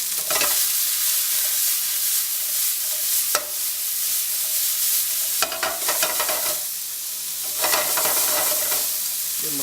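Chicken pieces sauté in a pan for Thai peanut curry, giving a loud, steady sizzle broken by a few stirring scrapes and brief dips as the pieces are moved.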